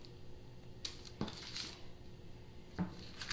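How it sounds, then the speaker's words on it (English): A knife cuts cold butter into small cubes on a board, giving a few sharp, separate taps and clicks spaced irregularly against a quiet kitchen background. "You're just going to cut it up in small cubes"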